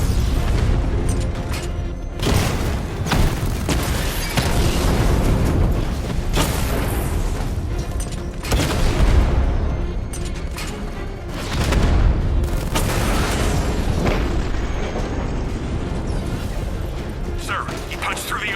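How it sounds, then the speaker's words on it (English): A 60mm tank cannon firing with explosions in Batman: Arkham Knight, repeated loud booming blasts and mechanical clatter crowding the whole stretch, with radio voices talking through the action. "Your 60mm cannon will penetrate these heavily armored units, but it'll take a few direct hits to destroy them."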